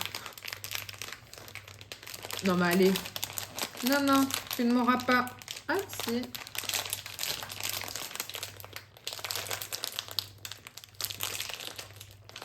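Crinkly plastic packaging rustles and crackles on and off as someone fumbles with it up close, while a person talks briefly in between.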